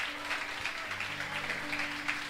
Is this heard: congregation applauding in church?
yes